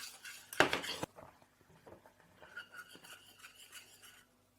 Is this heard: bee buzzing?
no